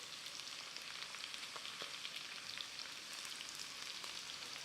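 Potatoes frying in duck fat in a pan give a steady bright sizzle with fine crackling pops throughout, close and even, with no talk.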